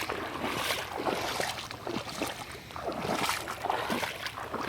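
Rainwater flows through a flooded field about a foot and a half deep, washing soil away in a continuous close rushing slosh with small splashes and gurgles.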